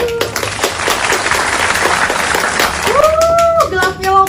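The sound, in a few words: audience applause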